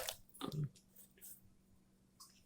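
Close, crisp crunching of food being bitten and chewed, a short burst of loud crunches followed by quieter chewing and breathing.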